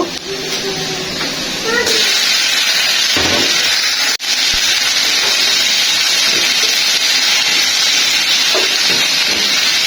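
Okra goes into onions already frying in a pan for a prawn and okra curry. A loud, close sizzle surges after about two seconds and keeps hissing steadily, with one brief knock partway through.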